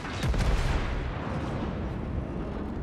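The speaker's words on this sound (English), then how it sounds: "Holy shit, he's firing HE at me too." High-explosive shell fire in World of Warships, aimed at a Wyoming battleship: a heavy booming salvo up front, then a rumbling roar that fades to lingering noise, no voices.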